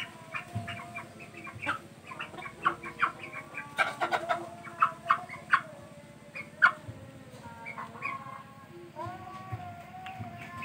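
Several hens cluck and croon nearby in short, uneven bursts while sunbathing, with a rooster-like call rising now and then over faint outdoor background noise.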